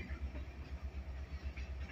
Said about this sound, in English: 12 cars. Short train today.